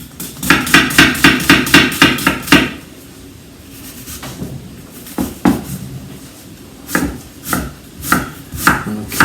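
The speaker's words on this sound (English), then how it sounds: "I'm just going to chop this quite small, but not minuscule." An onion is chopped on a cutting board with a knife, a quick burst of about ten even, sharp knocks, a pause with scattered taps, then another irregular run of cuts, close and alone.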